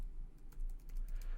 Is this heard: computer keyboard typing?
yes